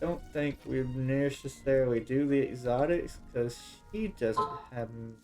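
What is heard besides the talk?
No everyday noise stands out behind the speech.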